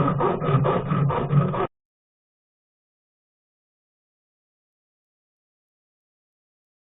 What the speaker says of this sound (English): let's clean that up, and I'm going to do it with my favorite file here